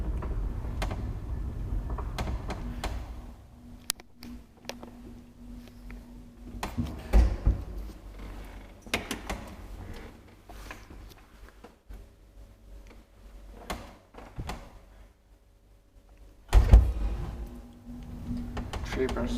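An old modernized Kone traction elevator running in a residential building at Munkkiniemen Puistotie 3, with low mechanical hum, occasional creaks and clunks, and a couple of louder door or car thuds over about twenty seconds.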